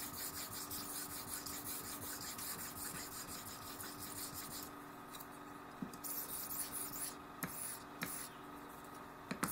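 A Japanese straight razor is honed on a Shobudani 2K whetstone, giving soft, close scraping and rubbing strokes in a steady back-and-forth rhythm that briefly pauses near the end, quiet and without talk.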